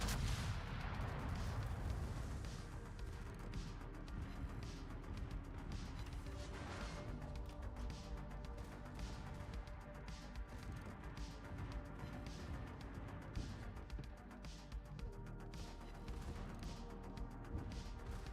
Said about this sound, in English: I'm going to farm secondary hits and main battery gun hits off of you.